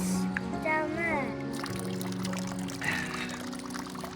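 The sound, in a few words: fresh spring water pouring from moss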